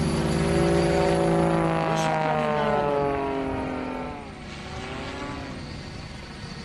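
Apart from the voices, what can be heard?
aerobatic propeller airplane performing stunts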